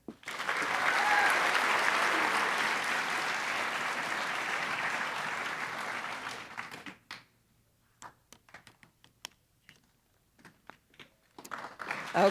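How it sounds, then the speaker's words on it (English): Broad, sustained applause from a large audience at a medical school white coat ceremony honoring newly coated students, loud and steady for about seven seconds before fading into scattered claps, taps and light shuffling. "let's have a round of applause for those that are white-coated"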